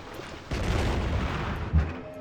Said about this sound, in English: I can start bombarding Grenobyl with my missile cruiser